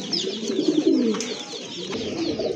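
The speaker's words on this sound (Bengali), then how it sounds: "আর ডাকতেছে এটা কিন্তু আপনার নর কবুতর।" A male domestic pigeon coos repeatedly at close range in a pigeon seller's loft, its low, rolling calls steady throughout, with faint higher bird chirps in the background and no speech.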